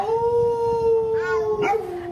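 A dog lets out a long, steady, close howl that holds one pitch for about two seconds, with a brief higher yip near the end.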